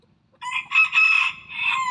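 A rooster crows once on a farm where chickens are raised, a loud, close call with a rising start, a sustained middle and a trailing end, heard alone without talk.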